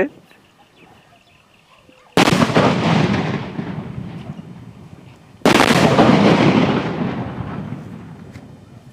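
Traditional country firecrackers for Diwali in a village, going off in two huge, deep blasts a few seconds apart, each with a long rumbling decay; quiet before the first bang.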